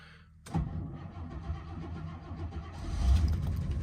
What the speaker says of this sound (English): Squeeze the pedal. Let's see whether it'll start.